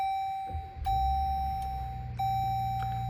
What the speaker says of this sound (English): And it comes to life for us nice and quick here. Lots of chimes